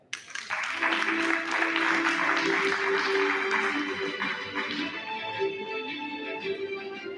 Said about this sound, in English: And the applause must be there.